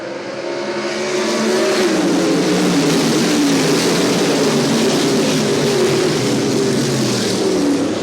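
USAC Silver Crown race cars roar past at Du Quoin State Fairgrounds, a loud sustained engine drone swelling in after a second and holding steady, close and continuous with no voices.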